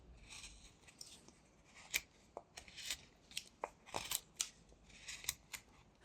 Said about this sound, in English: Next we can make a sweeping cut in the middle of this face.